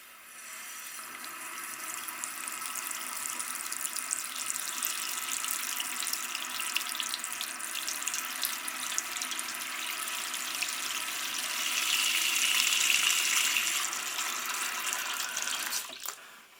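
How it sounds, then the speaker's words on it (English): Hot water runs from a tap into a container in a home setting, a steady, even gush and splash lasting over fifteen seconds, rising slightly in pitch as the vessel fills before cutting off abruptly. "and then hot water from the tap"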